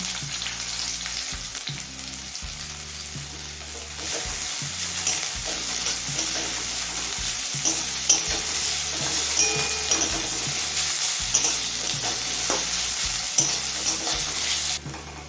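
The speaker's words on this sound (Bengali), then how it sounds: "এবার এই তেলে একদম পাতলা করে কাটা একটা বড় সাইজের পেঁয়াজ ভেজে নেব" A large, thinly sliced onion frying in hot oil for a radish bhorta, a dense steady sizzle close by with repeated soft scrapes and knocks of a spatula stirring throughout, no voices.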